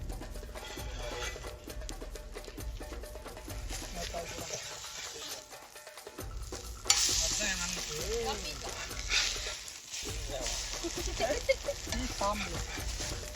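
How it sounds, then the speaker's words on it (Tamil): A large batch of omelettes frying in a pan for a crowd, with steady sizzling throughout, a brief quieter gap, and people talking over it. "இந்த மாதிரி நாங்க ஈஸியான முறையில் 100 ஆம்லெட் செய்ய போறோம்"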